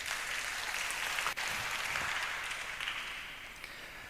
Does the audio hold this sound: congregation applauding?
yes